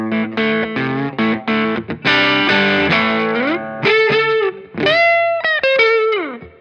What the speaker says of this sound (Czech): No a tady nahoře je jenom samotný krkový humbucker.